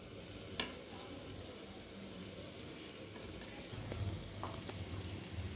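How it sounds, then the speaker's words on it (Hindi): Potatoes and whole spices frying in a pan for spicy chicken pulao give a steady, close sizzle with occasional stirring scrapes, growing a little louder toward the end, with no talking. "इसे अच्छे से हम भून लेंगे"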